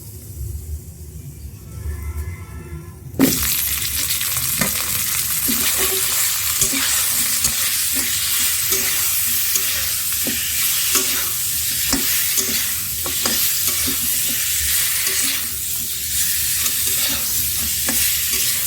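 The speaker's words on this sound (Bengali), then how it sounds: "শুকনো মরিচ মাছটা ভেজে নেব মশলার ভিতর শুধু আমি দেব হলুদের গুঁড়া" Fish fries in spices with dried chili and turmeric, producing a loud, continuous sizzle that bursts in after a quieter start, with scattered scraping ticks from stirring in the pan.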